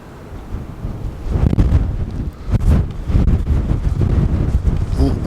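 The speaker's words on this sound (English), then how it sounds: "it's very, very windy out here today" Strong gusts batter the microphone on a windy coastal path down to a beach, loud rumbling buffets that swell and surge without pause.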